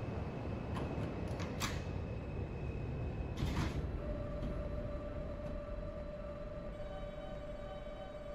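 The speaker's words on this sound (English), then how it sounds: "Stand clear of the closing doors," Subway train doors close with a few short clunks and thuds over a steady rumbling interior hum, followed by a sustained warning tone, in the OpenBVE train simulator on a New York City N Express run.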